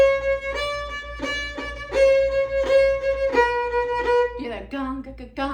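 A violin bowed fiddle-style with heavy, dug-in accents on the first beat of each bar, steady repeated strokes sounding clear and close, ending in a brief vocal imitation of the rhythm.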